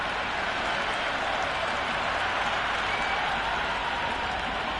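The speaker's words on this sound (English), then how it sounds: "the crowd have joined the party. It's pretty noisy at the ground." A stadium crowd roars in the Cricket 26 video game during an India versus New Zealand match, a loud, continuous wash of cheering and applause with no pauses.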